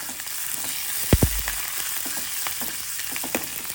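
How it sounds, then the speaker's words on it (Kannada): Mustard seeds, cumin, curry leaves and dried chilli frying in hot oil for a tempering, a steady close sizzle with a couple of sharp spits and crackles early on. "ಸಾಸಿವೆ ಹಾಕ್ಕೊಳ್ತಾ ಇದ್ದೀನಿ, ಜೀರಿಗೆ, ಕರಿಬೇವು, ಒಣಮೆಣಸು"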